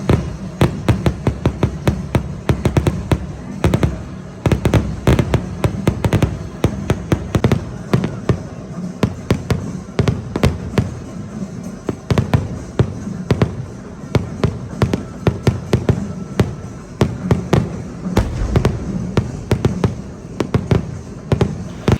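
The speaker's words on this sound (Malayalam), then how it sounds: "ഞാൻ ഈ വെടിക്കെട്ട് സമർപ്പിക്കുന്നു" Fireworks at the Cherampatta pooram festival in Valluvanad burst in a rapid, dense barrage. The loud, continuous crackling and booming rolls on without a break.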